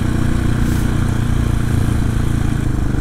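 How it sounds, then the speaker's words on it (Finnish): Motorcycles pass on a road in Hämeenkyrö, a steady loud engine rumble heard from inside a moving vehicle, with no pass-by rise or fall and no talk. "tää tulee moottoripyöriä vastaan"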